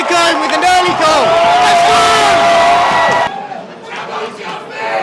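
A football crowd at a playoff final roars and yells loudly after an early goal, a dense wall of cheering and shouts that cuts off abruptly partway through, leaving quieter crowd murmur.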